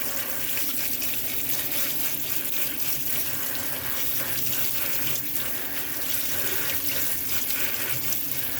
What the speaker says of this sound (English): I'm just going to rinse them